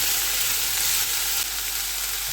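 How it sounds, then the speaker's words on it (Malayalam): A pan of Kerala-style beans thoran sizzles and fries steadily up close, a dense hiss with faint stirring beneath it. "ഇനി നമുക്കിതൊന്ന് ഇളക്കി കൊടുക്കാം."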